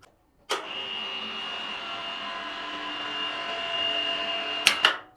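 A Mollar CIW20750 Gen 3 cordless impact wrench whirs steadily for several seconds, growing slightly louder, then cuts off with a couple of sharp clicks near the end.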